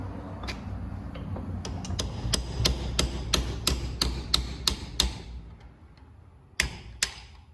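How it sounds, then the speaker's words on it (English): A U-joint cap is punched out of a Mercedes W126 300SD driveshaft with a series of sharp, ringing metal hammer strikes, evenly spaced and close, a pause, then two final blows. "Now we're gonna punch this one out and then start on this side."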